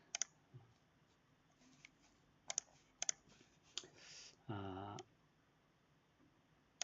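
A computer mouse clicks on a link with a few sharp, faint taps spread over several seconds, alongside brief soft rustles and a short low hum in a quiet room.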